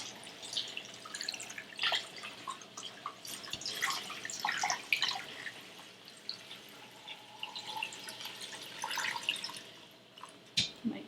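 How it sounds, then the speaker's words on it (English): Water pours from a tap or jug into an Instant Pot over bones for broth, a steady splashing, dripping stream running throughout at close range with no talk. "And then I'm going to cover them with water."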